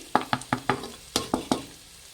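Chopped carrot frying in a pan while being stirred: a quick series of about seven sharp scraping stir strokes over a soft sizzle, close and fairly loud.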